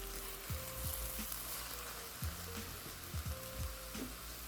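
Walnut and mushroom mixture frying quietly in a pan, a soft steady sizzle with faint clinks and scrapes of stirring now and then, close and low in level with no talking.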